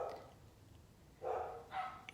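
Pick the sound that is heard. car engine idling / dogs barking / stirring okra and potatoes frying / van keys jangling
dogs barking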